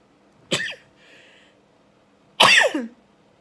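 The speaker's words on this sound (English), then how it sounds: "I'm gonna sneeze." Two abrupt nasal bursts a couple of seconds apart, the second louder and fuller, like a sneeze after a smaller catch, close and alone in a quiet room.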